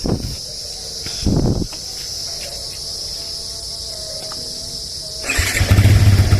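Yamaha Vixion NVL 2014 motorcycle being started: a brief starter whir, then the engine catches and rumbles near the end, over a steady chirp of crickets in the background.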